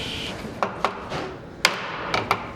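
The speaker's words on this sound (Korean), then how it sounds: "연결 부분을 끼우고 아귀가 맞도록 망치로 두드리고 다시 길이를 재는 일이 반복된다" Hammer taps wooden joints of a traditional hanok door frame into place during interior construction, giving several sharp, close knocks spaced irregularly over a low background hum.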